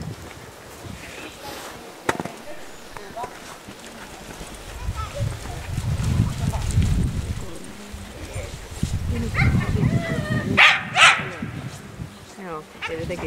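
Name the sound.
young dog barking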